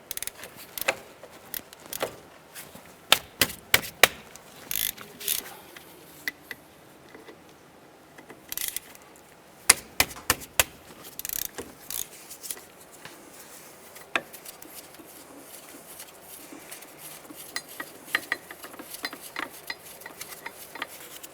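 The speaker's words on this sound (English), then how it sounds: "we're going to use a 14mm socket and remove this bolt here and this bolt down" A ratchet with a 14mm socket works the brake caliper bolts on a 2005-10 Jeep Grand Cherokee, producing scattered sharp metallic clicks and clanks in irregular bursts over a quiet background.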